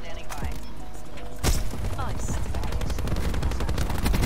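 Automatic gunfire in the video game Black Ops 4, loud and close, with a sharp blast followed by a continuous rapid rattle of shots.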